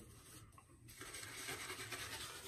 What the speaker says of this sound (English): It sure does uh, lather up pretty good.